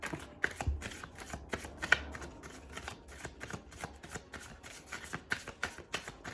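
A tarot card deck being shuffled by hand, steady rapid riffling and flicking of cards with soft thumps, close and continuous for several seconds.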